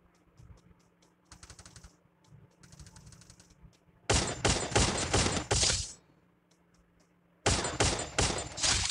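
Rapid automatic gunfire in the Free Fire battle royale game: two bursts of lighter shots early on, then two long, loud sustained volleys of close-range fire separated by a brief pause, with no talking.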